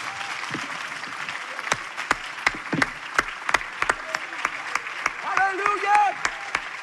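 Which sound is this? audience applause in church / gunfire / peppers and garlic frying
audience applause in church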